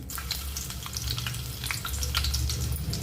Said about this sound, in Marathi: तेल आपलं गरम झालेलं आहे आता आपण याच्यात टाकणार आहोत दालचिनी